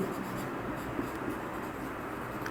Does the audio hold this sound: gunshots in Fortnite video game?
no